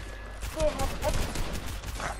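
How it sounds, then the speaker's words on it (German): Rapid bursts of video game gunfire crackle in quick succession, overlapping with some speech and background noise. "Ich höre Schüsse!"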